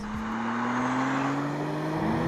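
A steady engine drone with rising tones, a sports car revving toward 7,500 RPM and pulling, loud and continuous with no talk.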